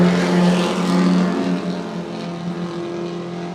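A BMW 130i race car roars past at a track, its engine loud and sustained as it moves through, with the note easing slightly toward the end.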